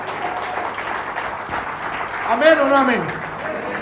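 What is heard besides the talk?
church congregation applause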